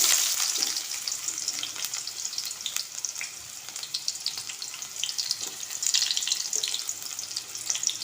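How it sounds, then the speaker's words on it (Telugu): Chopped onions fry in two spoons of hot oil, a bright continuous sizzle with occasional stirring scrapes, close and steady without speech. "ఆనియన్స్ వేసేద్దాం."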